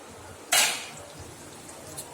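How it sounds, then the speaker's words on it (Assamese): A single sharp metallic clatter as a lid comes off a cooking pot of frying quail meat, a brief bright clank that quickly fades into quiet kitchen background. "মই ঢাকনিখন গুচাই দিছোঁ"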